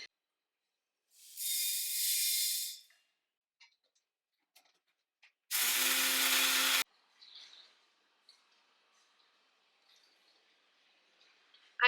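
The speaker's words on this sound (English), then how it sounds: "Right now I have to powder this first and then mix all the" An electric grinder powders herbal face-wash ingredients in two loud whirring bursts of a second or two each, separated by quiet with faint clicks and handling noises.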